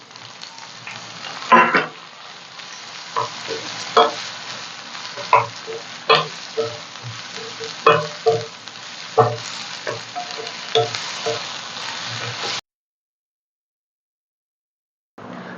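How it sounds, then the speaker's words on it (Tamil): Tomatoes frying in a pan, a steady soft sizzle with repeated scraping stirs at a regular pace, close and moderately loud, cutting off abruptly near the end. "இப்போ வந்து தக்காளி வதங்கிருச்சு."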